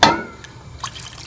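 Water goes into frying masala for a Punjabi chicken gravy in a home kitchen, giving a brief splash and sizzle followed by a few soft drips.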